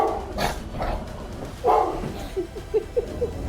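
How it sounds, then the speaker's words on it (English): Dogs reacting to a stuffed lion, a few short barks and yips, with whimpering, close by in a noisy setting. "This dog owner pranked his dogs with a stuffed lion."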